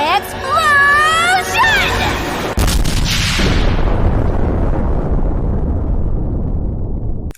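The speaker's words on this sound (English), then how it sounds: "Look! Explosion!" A huge magic explosion blast from the anime Konosuba erupts with a sharp crack and then a long, loud rumbling roar that slowly fades, following a brief high-pitched voice.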